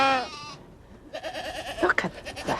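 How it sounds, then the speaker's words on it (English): Goats and sheep in a mixed herd bleat nearby: one long wavering bleat, a pause with quiet background, then several shorter overlapping calls from different animals. "So these are the goats over here, are they?"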